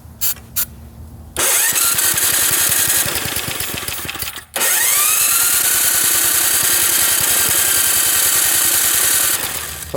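Small vintage 1965 Ariens snowblower engine at full throttle, a few brief cranking bursts giving way to a loud, steady high-revving roar that drops out once and then catches again, running close and continuously to the end.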